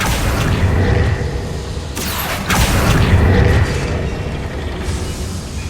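A fiery Confringo blast spell from the Hogwarts Legacy game bursts with a loud boom and rushing whoosh, a second sharp crack following moments later, with rumbling game ambience throughout and no talk.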